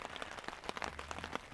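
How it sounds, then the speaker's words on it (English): Steady rain falls outdoors around a car camping setup, a soft continuous patter of drops with scattered sharper taps, moderately faint and close, with no talking. "It's nice to be out in the rain."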